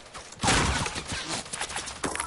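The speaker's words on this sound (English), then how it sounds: "Three people shooting at once." Several players fire at once during a Fortnite battle royale match, a sudden dense burst of overlapping gunshots that bursts in after a quiet start, then crackles on with scattered shots.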